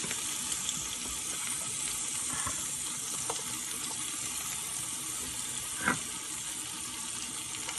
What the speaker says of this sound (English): I just added the ghee to this vegetable oil that I used to fry the shrimp